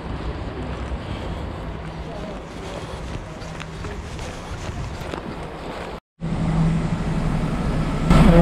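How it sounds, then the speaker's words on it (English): A bus bound for Bujanovac near the Serbian border rumbles steadily with engine noise and buffeting wind, loud and close, with a brief dropout before the noise swells again. "This is the bus will take me to Bujanovac, border of Serbia."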